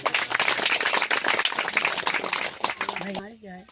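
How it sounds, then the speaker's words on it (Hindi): Loud, dense clapping from a religious prayer gathering audience, continuous for about three seconds before fading as a voice begins speaking over the tail end. "जोर से ताली बजाएं"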